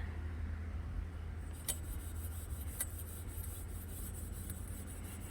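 #0 steel wool scrubs rust off an Ames Maid vintage metal kitchen cart, a faint, steady rasping rub with a couple of sharp ticks, close and alone.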